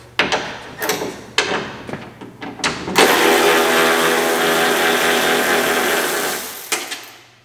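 A Milwaukee power ratchet removes car hood bolts, first with several short buzzing bursts and then one long continuous whir lasting about four seconds, close and loud.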